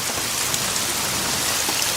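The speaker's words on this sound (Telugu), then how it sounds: "ఎక్కడ చేశాడు వీడు ఈ వర్షం ఒకటి?" Steady, dense rainfall pours down in an even hiss of countless drops hitting surfaces, constant and close throughout with no voices.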